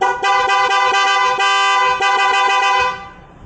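A new Bosch horn on a 2022 Vespa Primavera S blares loud and close in a few long, rich, buzzy honks with brief gaps, then falls away into quiet.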